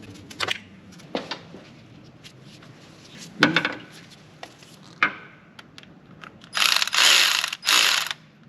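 A ratchet clicks through rapid bursts as nuts come off a Mercedes ML55 AMG fan shroud, close up with scattered metallic taps and clunks between short pawl runs, two louder ratcheting bursts near the end.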